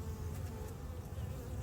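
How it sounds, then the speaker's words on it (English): Honey bees hum steadily around an open hive during an inspection, a dense continuous buzz close by, with no voices. "Right now you got a lot of worker bees out working."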